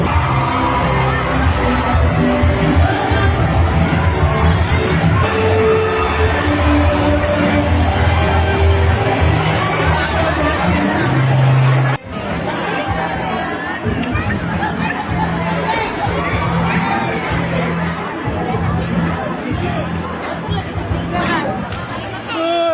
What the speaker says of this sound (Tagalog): Sigawan.